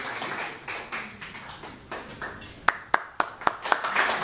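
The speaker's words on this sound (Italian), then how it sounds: "Un applauso a Pasquale" Applause for a speaker at an Italian stamp presentation event honouring Pino Daniele: moderate, loose clapping from a modest crowd, with a few sharp, louder individual claps standing out near the end.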